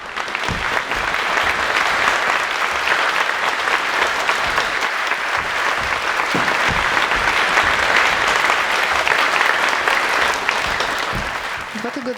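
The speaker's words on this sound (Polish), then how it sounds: "proszę o ogromne brawa" Theatre audience at a post-performance talk gives a long, loud, sustained round of applause to welcome a guest actress, a dense unbroken clatter of many hands lasting the whole stretch.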